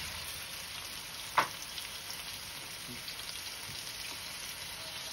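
Chopped onions sizzle steadily in a hot pan for a Filipino sweet and sour fish, a constant frying hiss with one sharp crackle near the start.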